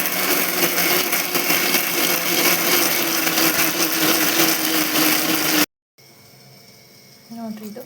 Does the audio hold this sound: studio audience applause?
no